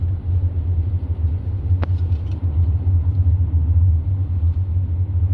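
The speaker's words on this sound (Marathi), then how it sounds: "आता आपली गाडी चालू आहे चौथ्या गिअरवर." A car travels down a road in fourth gear, heard from inside as a loud, steady low engine and road rumble with one brief click near the start.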